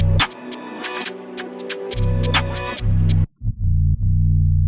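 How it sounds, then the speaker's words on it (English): Synthesized bass with a slide note dropping in pitch over a programmed electronic beat, loud and sustained, briefly cutting out before returning, no talk. "The other thing I could do instead of that is have a bit of a bass drop."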